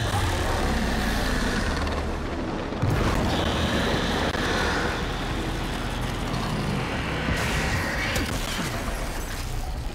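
An explosion in the video game Warframe, heard as a steady, dense roar of rumbling noise with two heavier thumping surges, loud and close, with no talking.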